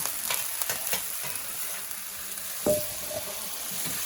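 Sautéed vegetables for pepper steak are scooped from a sizzling skillet with a spoon: a steady close fry hiss broken by several scraping clinks, with one sharper knock near the end.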